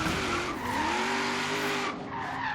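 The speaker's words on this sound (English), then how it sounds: "You can hear that exhaust echoing off the buildings." A loud car exhaust roars and echoes off surrounding buildings, a sustained rising and falling engine note with a brief dip, close and dominant, with no talking.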